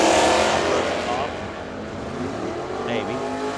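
A canary yellow 1974 Plymouth Duster drag car with a 440 roars loudly at a drag strip, its engine note sweeping and fading as it runs, while an announcer talks over it.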